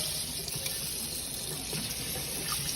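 A mobile home sink faucet runs in a steady, even stream, close by and moderately loud, splashing continuously with no voices over it.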